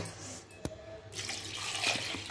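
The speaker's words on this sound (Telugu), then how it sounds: "కొన్ని వాటర్ వేసుకుందాం." Water poured into a hand-mashed tomato mixture for Telangana tomato charu, a soft, brief splash and trickle that swells after a quiet moment and stays faint and close.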